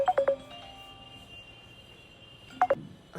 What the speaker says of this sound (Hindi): फिर फोन आ रहा है